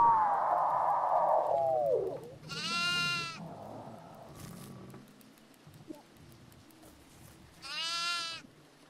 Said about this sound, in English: I got a goat.